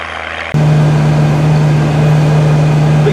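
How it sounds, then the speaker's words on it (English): A loud, steady engine drone with a deep low hum from a 390-horsepower Massey Ferguson 5200 four-wheel drive tractor pulling an 820 disk in a field starts abruptly and runs on without a break. "it's always exciting to see a big Massey Ferguson four-wheel drive tractor in action like this 5200"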